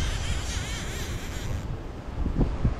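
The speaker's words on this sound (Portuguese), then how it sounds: "começou um baita de um vento aqui no pesqueiro" Strong gusting wind buffets the microphone at a fishing pond, a steady broadband roar that swells and dips throughout, with a few louder low thumps near the end.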